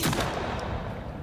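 A shotgun loaded with buckshot fires once in the Sons of the Forest video game, a single close, heavy blast that quickly fades into a rumbling decay.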